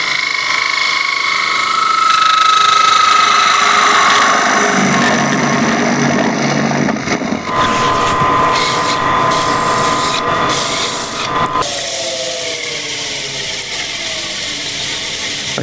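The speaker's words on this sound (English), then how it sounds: "I can't stop this lathe by hand." A wood lathe spins steadily while a bowl is turned, a loud continuous whir with shifting scraping tones as the gouge cuts, broadening into a harsher rush midway before settling back into an even hum.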